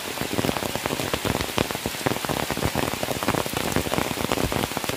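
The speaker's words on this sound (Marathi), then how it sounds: "सकाळपासून पाऊस नव्हता पण आता पाऊस आला आहे" Heavy rain pours in the Sahyadri hills, a close, constant hiss of dense drops striking leaves and ground, loud and unbroken throughout with no voices.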